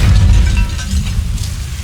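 The Incendio fire spell in Hogwarts Legacy erupts as a loud, close, deep booming rush of flame, rumbling continuously for a couple of seconds with a slight flicker at the end, with no talking.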